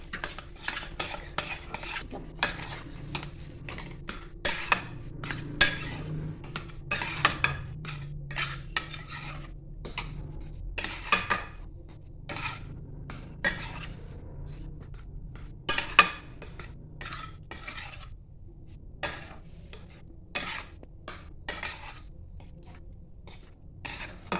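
A spoon stirs a cup of semolina into boiled water in a pot, giving repeated scraping and clinking strokes against the metal in an irregular rhythm, close and fairly loud, with no voices.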